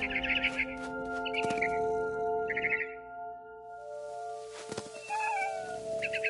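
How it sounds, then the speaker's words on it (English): A barn swallow in the video game What Remains of Edith Finch gives short bursts of high chirps near a window, repeated several times over steady tonal game music and a low ambient hum. "Then I heard chirping outside my window. It was a barn swallow going back to her nest."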